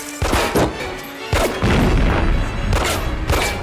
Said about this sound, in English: Why is that exploding?